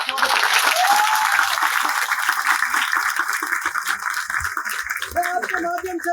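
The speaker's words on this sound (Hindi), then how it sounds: "जोरदार तालियां बजा के एक बार स्वागत है।" Crowd applause welcoming officials of the community groups at a public gathering in Jodhpur, a steady, dense wash of clapping over 6 seconds, with a voice speaking over it near the end.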